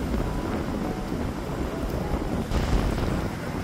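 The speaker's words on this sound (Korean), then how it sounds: "바람이 진짜 많이 불어요." Strong coastal wind near Mokpo roars steadily into the microphone, a dense, loud rush of buffeting gusts with no voices, swelling slightly toward the end.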